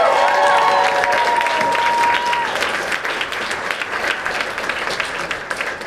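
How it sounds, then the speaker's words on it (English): Audience at a startup competition's winners announcement and closing applauds the judges, a dense, loud burst of clapping that swells at first and then settles into steady, slightly thinner applause. "So a big round of applause specifically for these four."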